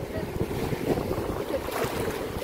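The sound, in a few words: sea waves on the Konkan coast at Harihareshwar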